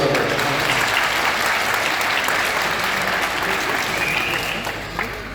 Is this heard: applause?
yes